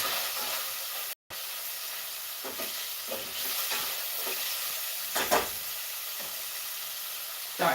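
Onions fry in a hot pan with loud, continuous sizzling and hissing, broken briefly by a moment of silence and a few louder spits and crackles.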